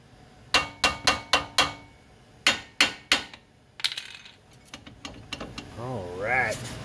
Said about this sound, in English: don't hit that with a clawed hammer